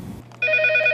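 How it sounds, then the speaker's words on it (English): An investigator's telephone ringing: after a short low hum, a loud electronic ring starts abruptly and holds steady with a pulsing warble, with no voices. "This investigator's phone won't stop ringing"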